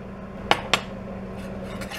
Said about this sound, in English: And then you're gonna stir this.